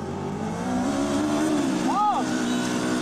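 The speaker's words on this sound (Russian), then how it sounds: "Они разогнали автомобиль и ударили в ковш экскаватора." A car speeds up on a test run toward an excavator bucket, its engine a steady, strong drone that rises slightly in pitch. A voice talks over it throughout.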